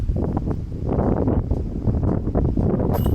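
Strong gusts of wind sweep across a disc golf course, a continuous broadband roar buffeting the microphone with swelling surges over three seconds, no talk.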